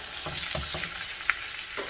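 Pork from a meal-kit packet sizzles and is stirred as it is scooped into a Ninja frying pan on low heat, giving a soft, steady frying hiss broken by a few scraping stirs and one sharp clink.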